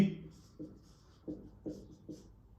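Chalk or marker on a board during a Class 10 maths lesson on circles, a few short scratchy strokes spaced about half a second apart, fairly faint under a quiet room.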